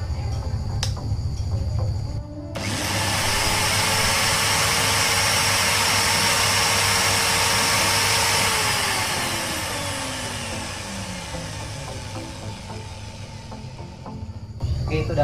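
A corded Bosch electric drill with no speed control or reverse runs without load: it switches on with a sharp start, holds a steady high whine for several seconds, then winds down gradually as it coasts to a stop.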